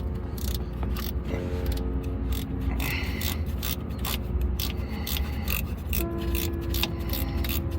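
Ratcheting wrench loosening a 10 mm bolt on the AC compressor of a 2007 Ford Focus, a steady run of close, fast mechanical clicks with metallic ticking throughout.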